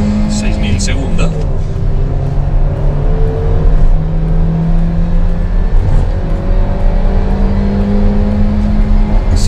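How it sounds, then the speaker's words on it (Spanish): A Suzuki Swift Hybrid pulls hard under full throttle, its engine note droning steadily and climbing through the gears, loud and close as if heard from inside the cabin, with someone talking over it. "Lo primero que voy a hacer es la aceleración. Vamos a fondo."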